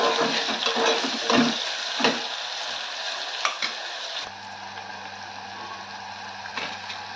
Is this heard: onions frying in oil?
yes